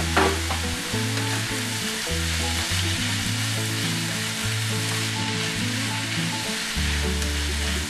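Beef and mushroom casserole mixture sizzles steadily in a pan, a loud, continuous frying hiss with occasional stirring scrapes and no voices.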